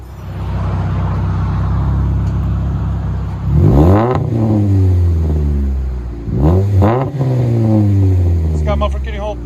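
A Pontiac G5 / Chevy Cobalt 2.2L engine revs hard through a rumble muffler, two loud rising-and-falling bursts over a steady idle drone, with people talking nearby.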